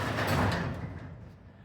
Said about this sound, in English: I wanted to close this door